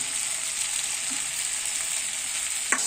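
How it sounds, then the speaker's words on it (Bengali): Mustard and poppy seed paste hits a hot frying pan for a spicy winter aubergine, potato and tomato dish, giving a steady loud sizzle throughout with a brief utensil tap near the end. "এইবার আমি সর্ষে আর পোস্ত যে বেটে নিয়েছিলাম, সর্ষে পোস্তটা দিয়ে দিচ্ছি এর মধ্যে"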